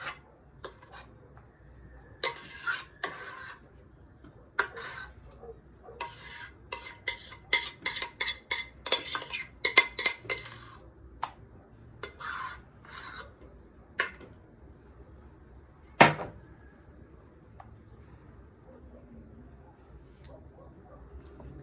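A spoon spreads cooled custard cream over a cake, making scattered soft scrapes and light clinks against the cake and dish in irregular bursts, with one sharper tap near the end and quiet gaps between.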